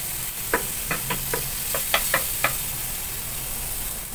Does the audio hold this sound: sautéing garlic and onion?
yes